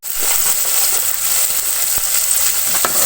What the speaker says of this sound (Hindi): हल्की आंच में मैं टमाटर को थोड़ी देर भून लूँगी